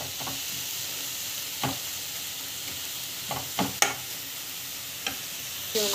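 Ingredients sauté in a pan for a Murugar pooja dish, a soft steady sizzle broken by a few sharp scrapes and taps of a spoon against the pan, close and without talk.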